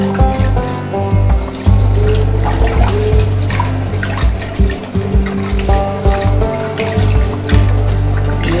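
Soaked tamarind is squeezed by hand in a bowl of water for prawn kuzhambu, giving close, loud sloshing and splashing in uneven bursts, with music playing underneath.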